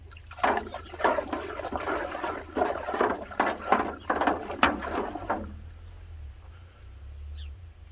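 Jadam liquid fertiliser glugs and splashes as it pours from a jug into a container. A close, gurgling stream runs for about five seconds, then stops, leaving a quiet low background.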